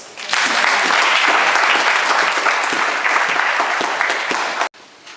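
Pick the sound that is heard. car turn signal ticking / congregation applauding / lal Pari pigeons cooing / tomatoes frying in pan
congregation applauding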